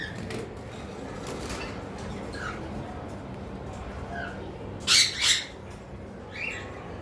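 Pet cockatiels, including white American birds, give sharp squawks and chirps over a steady background hum, with two loud calls close together near the end and a fainter one after.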